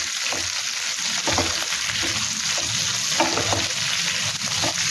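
Salted bhindi (okra) frying in a pan after tempering, with a loud, constant hiss of sizzling oil and soft stirring scrapes underneath, close up and without talking.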